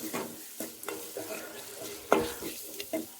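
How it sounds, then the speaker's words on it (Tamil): Onions with salt sauté in a pan with a low steady sizzle, broken by a few soft scrapes and stirring knocks, one sharper clack in the middle; close and fairly quiet, no talk. "நல்லா வதங்கட்டும்."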